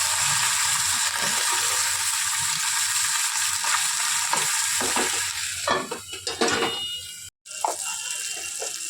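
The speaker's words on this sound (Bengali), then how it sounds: "মাছটা ভাজা হোক ততক্ষণে। দেখি এবার মাছগুলো কত দূর হয়েছে। মাছগুলো একটু উল্টাই।" Small fish frying in hot oil for a Bengali chochchori: a continuous loud sizzle with stirring and turning clatter, briefly dropping out once before the frying resumes, no one talking.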